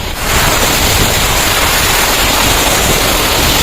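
Water stream rushing through a village school in a flooded sugarcane-growing area, with the road cut and the whole village underwater. It makes a loud, steady broadband roar with no break and no voices.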